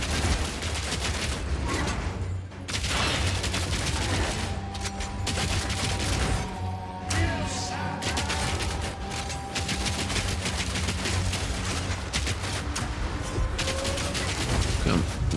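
Grenade explosions and rapid gunfire-like bursts during a boss fight in the action RPG Path of Exile 2, loud and continuous, layered with tonal effects and a steady low hum.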